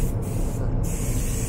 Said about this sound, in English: another new machine, which sprays a mixture of, I think it's hydrogen peroxide